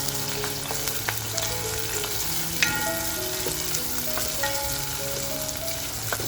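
Chopped onion sizzling in hot oil with whole spices for Rajasthani laal maas, a steady dense frying hiss with scattered pops and the clink of a spoon stirring the pan.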